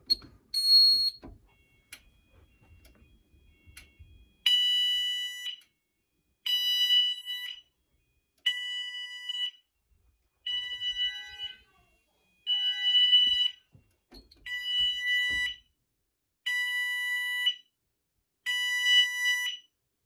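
An Apollo XP95 fire alarm system sounds its test signal as a loud electronic tone pulsing on and off in regular bursts for about fifteen seconds, after brief handling noises.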